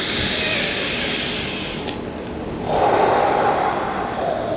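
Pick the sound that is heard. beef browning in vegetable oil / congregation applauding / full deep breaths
full deep breaths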